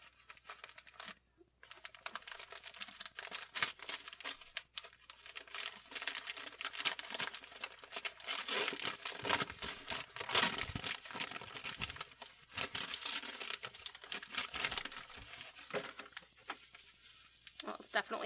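Crinkly packaging for a Harry Potter wand, a GeekGear World of Wizardry exclusive, rustles and tears in bursts close by, with a person talking over the handling.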